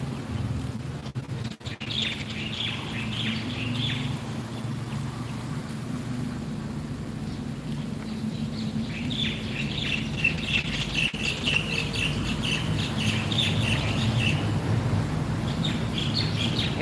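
Birds sing at Wat Huay Pla Kang, a temple in Chiang Rai, Thailand, giving repeated high chirps and song phrases over a steady low rumble of traffic and running water.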